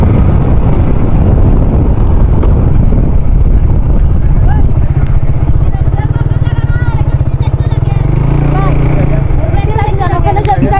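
A motorcycle rides off-road on the way to a waterfall near Sitakunda, its engine droning steadily under loud, buffeting wind noise, with voices speaking over it.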